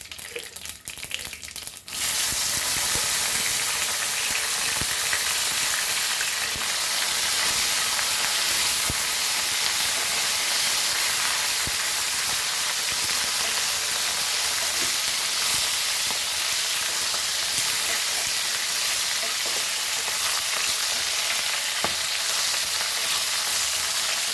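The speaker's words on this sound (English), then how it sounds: "And we'll fry our chilies in this." Green chilies frying in hot oil in a pan for a Goan green chili curry. They go in with a short burst at the start, then a loud, steady sizzle and crackle runs on uninterrupted for over twenty seconds, close and without talking.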